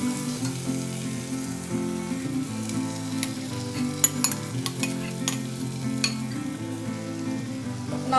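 Pav bhaji vegetables fry with grated boiled beetroot under steady music, with a low continuous sizzle and scattered sharp clicks from stirring.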